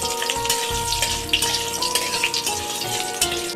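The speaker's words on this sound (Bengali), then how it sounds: "তারপর 5 ফোড়ন দিয়ে দিলাম, শুকনো লঙ্কা আর বড়ি, সবগুলো একসঙ্গে নাড়াচাড়া করে দিলাম" Panch phoron spices, dried red chillies and bori lentil dumplings frying in hot oil while being stirred, a loud steady sizzle with scraping spatula strokes and occasional sharp pops, close and without talk.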